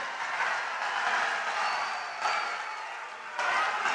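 Audience applauding to welcome the chief minister at a public event in Bihar, a continuous wash of clapping that stays fairly even and moderately loud over four seconds.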